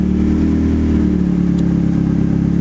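A turbocharged Mazda Miata engine idles close and loud after a tuning fix, a steady, even drone with a light clatter on top.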